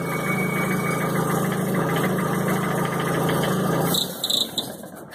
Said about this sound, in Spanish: Vamos, aceleremos ahí el vehículo